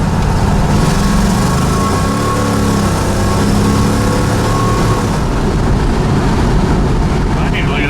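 A big-block Buick GS engine with an exhaust leak runs steadily and loud close by, a low rumbling idle that rises and falls slightly, with a person talking over it.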